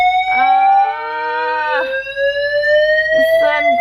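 A building fire alarm in New York blares loud and close, a steady electronic siren tone that sweeps slightly in pitch and keeps sounding throughout, with short bursts of noise breaking in between its repeated cycles.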